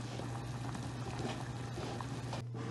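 Chicken gizzards simmer in salted water with bay leaf, a soft continuous bubbling hiss with a low steady hum beneath, faint and unbroken.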